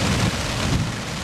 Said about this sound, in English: then right before I got back, it started storming